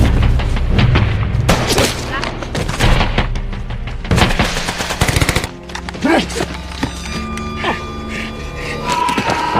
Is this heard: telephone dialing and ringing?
no